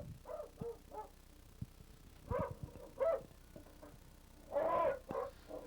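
Hunting dogs bay at a wild boar in a series of sharp, spaced barks and yelps, some in quick pairs, moderately close, with a louder burst of baying near the end.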